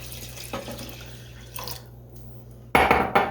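Water for brown basmati rice is poured into a pot on the stove, a quiet trickle at first and then a loud splashing burst near the end, with faint clinks and no talking.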